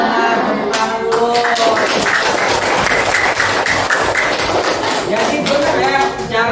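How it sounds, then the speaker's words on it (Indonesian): Classroom students clapping together in a lesson, a steady burst of many hands with a teacher's voice talking over it throughout, close and fairly loud. "Benar, tepuk tangan dulu."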